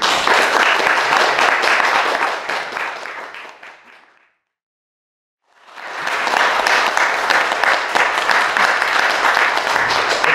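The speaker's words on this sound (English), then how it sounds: "I'm actually going to join you in clapping right here" Studio audience at a sports entertainment talk show applauding loudly and steadily, fading out to silence for about a second, then swelling back into full sustained clapping with no talk.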